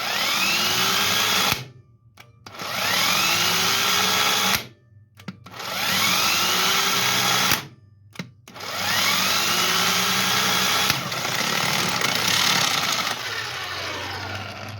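A battery-powered Harbor Freight impact gun runs in loud bursts of buzzing, rattling hammering, four runs separated by short pauses.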